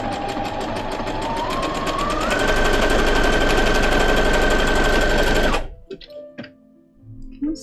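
Sewing machine stitching cosplay fabric, a loud close continuous whirring drone with rapid needle chatter that rises slightly in pitch, then stops abruptly, leaving a few quiet handling clicks and bumps.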